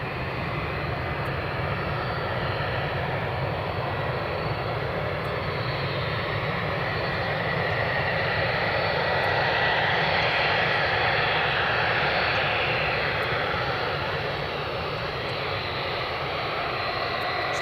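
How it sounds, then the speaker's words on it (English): A Boeing 757 airliner taxis at Edinburgh Airport, its jet engines producing a steady, loud broadband roar that swells slightly as the aircraft moves closer. "Now we have the 757 just taxiing along towards us."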